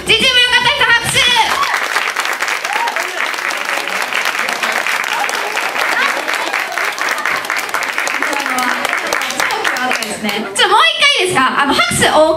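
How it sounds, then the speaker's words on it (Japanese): An audience at a 2014 graduation party battle contest claps loudly and continuously for team G in a qualifying round. Voices talk briefly just before the clapping swells and again as it fades. "G チーム良かった人、拍手"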